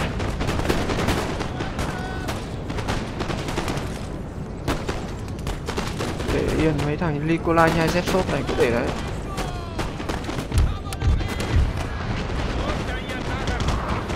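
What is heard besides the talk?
musket and artillery gunfire, from video game Napoleon Total War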